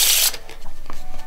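A deck of playing cards is given a brief shuffle during a close-up card trick, a bright burst of riffling at the very start that quickly gives way to quiet handling noise.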